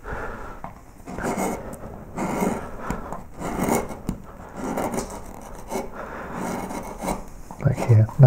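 A carving tool cuts and scrapes into a wooden relief of three hares, giving repeated rasping strokes in short bursts with brief pauses, close and fairly steady throughout.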